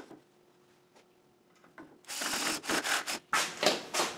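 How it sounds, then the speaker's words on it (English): A quiet hum gives way to a loud, harsh Hammer Model 4400 bandsaw slicing thin wood segments, cutting in bursts with short pauses between strokes. "Now I'm using my Hammer Model 4400 bandsaw with my automated Accu-Slice system"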